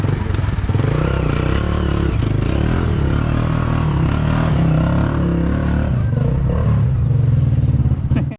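Motorcycle-powered tricycle engine running steadily and loud throughout, a continuous low rumble with clattering mechanical noise and no pauses.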